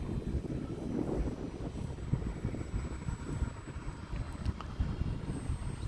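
An E-flite Valiant 1.3m RC airplane climbs out after takeoff, its electric motor and propeller giving a steady, moderately distant drone mixed with outdoor wind rumble, holding fairly even in level throughout.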